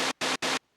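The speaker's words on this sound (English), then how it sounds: "scroll all the way to the final waveform, which is white noise, and turn the detune up to max" Three short bursts of harsh, hissing white noise with detune at maximum from a Liven Ambient 0 synthesizer, evenly spaced, loud and dry with abrupt starts and stops.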